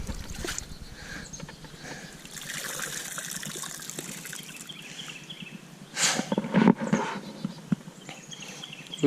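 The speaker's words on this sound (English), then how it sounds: "the boots got stuck in the mud" Boots squelch and splash through wet mud and shallow water, with steady sloshing and trickling throughout and a louder burst of splashing and sucking near the end.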